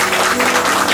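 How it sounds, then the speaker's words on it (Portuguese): A congregation at a church service applauds; a short, steady burst of many hands clapping together fills the space, moderately loud with no voices on top. "Uma maravilhosa salva de palmas."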